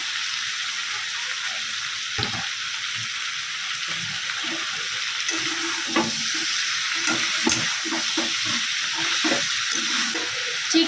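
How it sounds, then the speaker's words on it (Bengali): Chopped vegetables go into a pot of chicken stew and are stirred, with close scraping and clattering over a steady background sizzle and hiss. "এবার এর মধ্যে দিয়ে দিচ্ছি কেটে রাখা সবজিটা"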